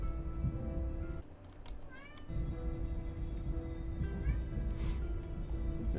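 A cat gives a few short meows, soft and brief, mixed in with a steady musical game soundtrack.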